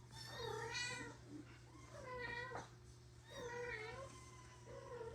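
A house cat meows several times in a drawn-out, plaintive way against a steady low hum in an indoor room, with no talking.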